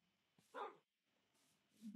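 A dog in the video game Minecraft gives a couple of short, clear barks separated by quiet gaps, close and alone with no talking.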